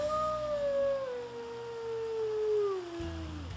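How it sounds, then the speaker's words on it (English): A single wolf howls in one long, sustained, gliding note that slowly falls in pitch, clear and prominent against low background rumble, with no talking. "There's really nothing like hearing a wolf howl for the first time."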